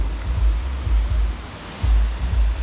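River or creek water flowing near Corvin Castle in Hunedoara, Romania: a steady, rumbling wash with low surging swells throughout, with no talk.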